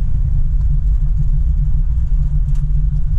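An LS-swapped Camaro with a big, aggressive cam drives along a muddy driveway, its engine a loud, close, continuous low rumble with a slightly uneven, throbbing idle-like pulse throughout.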